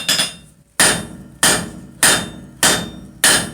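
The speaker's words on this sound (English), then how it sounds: "using progressive hammer forging straight out to the tip, right out to the shoulder of the leaf bud" Steady hammer blows ring out on hot metal as a blacksmith forges a leaf bud over an anvil horn, five loud, evenly spaced strikes with sharp metallic rings decaying between them, close and without talk.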